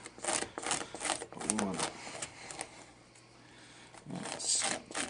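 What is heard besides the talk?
stout rougher scuffing ear cartilage for taxidermy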